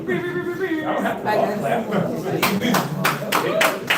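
An audience at a live poetry open mic bursts into clapping that builds into rapid, sharp, close claps, with people talking and laughing underneath.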